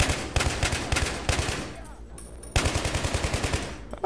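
Automatic machine gun fire in the Battlefield 3 video game, loud rapid bursts of shots with a brief lull in the middle before another fast burst resumes.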